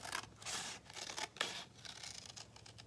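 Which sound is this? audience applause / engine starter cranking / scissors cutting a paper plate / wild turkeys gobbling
scissors cutting a paper plate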